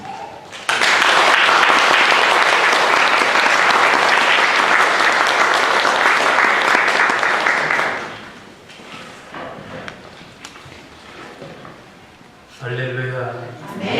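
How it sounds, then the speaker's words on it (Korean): An audience in a church applauds warmly to welcome a pastor, with loud, sustained clapping for about seven seconds before it fades, followed by a brief spoken greeting. "우리 같이 뜨겁게 박수로 우리 목사님 맞도록 하겠습니다"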